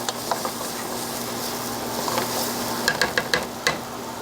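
Vegetables coated with tomato paste stirred in a pot, a low steady sizzle with scattered scraping clicks from the spoon that bunch up near the end.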